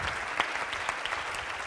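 An audience applauds at the close of an organisation's gathering, giving steady crowd clapping with scattered individual claps standing out, moderately distant and sustained.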